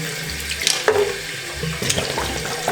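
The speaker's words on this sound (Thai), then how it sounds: "จากนั้นเนี่ย เราก็ล้างน้ำเปล่าเลยค่ะ" Running tap water pours over a hedgehog's water bottle as it is rinsed, a steady nearby splashing stream broken by a few brief clatters and shifts in flow, with no talking.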